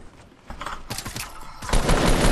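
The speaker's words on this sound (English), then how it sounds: "I heard gunfire like right on me." Bursts of rapid gunfire in the video game Fortnite crackle close and loud, a short volley followed by a heavier sustained barrage, with game-style sound effects.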